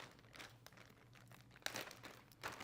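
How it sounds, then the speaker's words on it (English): Quiet crinkling and tearing of a pre-sealed plastic medical pack for a Blakemore tube being opened, with a few sharper crackles near the end, faint and close. "Open the pre-sealed pack"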